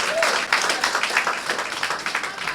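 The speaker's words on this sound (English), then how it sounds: "Let's give him a round of applause." A brief burst of applause from a crowd at a political party event, many hands clapping steadily and fairly close, without talk.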